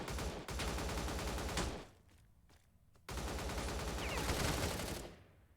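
SIG SG 550 rifle fitted with a regular muzzle brake firing in a video game, two sustained automatic bursts of about a second and a half each, loud and close, separated by a brief pause with faint room tone.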